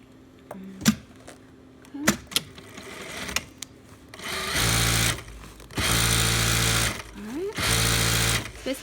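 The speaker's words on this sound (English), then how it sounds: "I'm just sewing the elastic" A sewing machine runs in three sustained bursts, stitching elastic flat in rows for a surgical cap, preceded by a few sharp clicks and brief handling knocks; the motor whirs loud and steady during each run.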